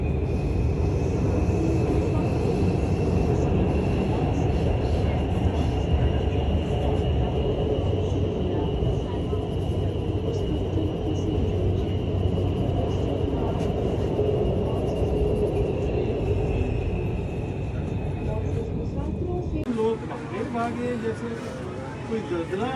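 Inside a moving Orange Line metro train in Lahore, a steady loud rumble and whine of the carriage runs throughout, with a faint background voice and a shift in the noise near the end.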